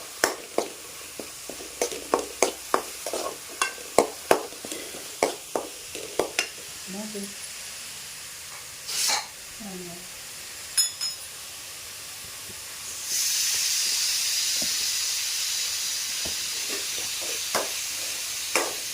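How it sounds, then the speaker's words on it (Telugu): Curry leaves fry in hot oil in a pan, crackling and spitting in sharp irregular pops close up, thinning out before a steady steamy hiss takes over toward the end. "కొంచెం కరివేపాకు కూడా వేసుకొని అలా ఫ్రై చేసుకుంటూ పెడతాం"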